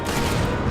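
Gunfire in the World War II sniper game Sniper Elite V2 Remastered, a dense, loud burst of shots forming a brief continuous rumble with no pause.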